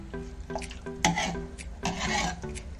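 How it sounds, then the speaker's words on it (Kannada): Rice and water stirred in a pot for masala chitranna, a few short scraping swirls of a spoon against the vessel, close and fairly quiet, with no talk. "ಚೆನ್ನಾಗಿ ಮಿಕ್ಸ್ ಮಾಡ್ಕೊಳ್ಬೇಕು."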